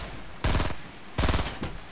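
Gunfire in the video game Fortnite Battle Royale: two loud, dense bursts of rapid shots about a second apart, followed by a shorter third burst, up close with no one speaking.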